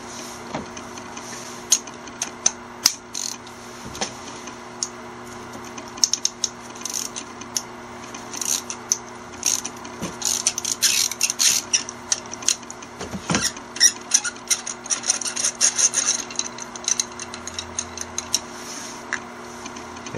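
A socket wrench ratchets and clicks while loosening spark plugs in the engine bay of a 2009 Nissan Versa 1.8, with close, irregular metallic ticks and taps over a faint steady hum.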